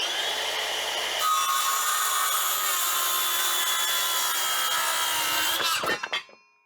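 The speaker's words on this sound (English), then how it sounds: "So I think I'll use the circular saw next." A circular saw cuts hard timber with a loud, continuous high-pitched whine that deepens slightly into the cut and ends abruptly as the blade exits and winds down.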